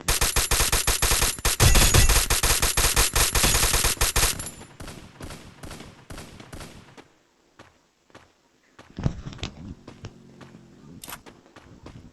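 Dense bursts of rapid automatic gunfire from the Free Fire video game, loud and sustained for several seconds, then thinning into scattered single shots and short volleys with quieter gaps.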